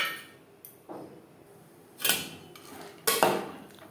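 Dry pasta tipped into a pot of hot salted water for a spicy egg pasta dish, giving two sharp clattering rattles against the pot, close and fairly loud, with quiet kitchen background between.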